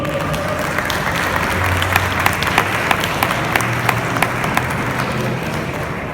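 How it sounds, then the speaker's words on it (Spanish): Sustained audience applause fills a hall to welcome a panelist at a panel on psychological violence in teaching, steady dense clapping throughout with a few sharper individual claps standing out. "La recibimos con un fuerte y caluroso aplauso."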